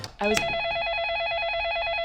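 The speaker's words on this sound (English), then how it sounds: "Sometimes the phone will ring." Telephone ringing in the interactive drama game Facade: after a brief knock-like sound, a rapid trilling electronic bell rings steadily and moderately loud with no voices over it.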